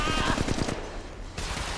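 Rapid bursts of automatic gunfire in the mobile battle royale shooter Apex Legends Mobile, a tight run of sharp shots up front that gives way to softer game ambience, with a faint voice in the mix.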